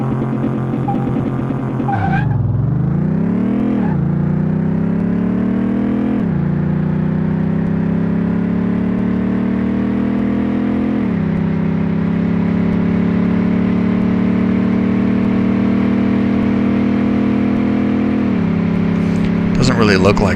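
A car in Car Mechanic Simulator 2018 drives at about 160 mph, its loud engine drone sweeping up and down through several gear shifts and then holding a high sustained whine.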